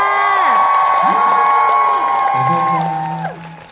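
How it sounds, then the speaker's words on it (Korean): A concert audience at a live band show erupts in loud, high-pitched cheering, whooping and clapping that fades toward the end. "힘내게 박수 한 번만 주실래요?"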